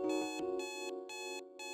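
A harmonic electronic alarm clock rings in the video game Snoot Game, sounding in repeated steady bursts with brief gaps, loud and close, with no voices.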